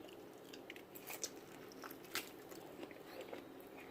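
Close, quiet biting and chewing of smoked pork ribs, with several soft crunchy bites and moist, squishy chewing in an uneven rhythm.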